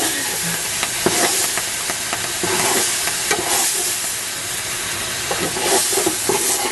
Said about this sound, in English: See that steam, how that comes off?